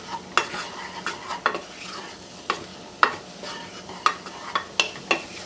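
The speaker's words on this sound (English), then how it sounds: "I'm adding about 3 tablespoons of flour. Make a little roux." Flour is stirred into hot olive oil in a pan to make a roux, with a spoon scraping and tapping in an irregular rhythm over a soft sizzle, close and alone.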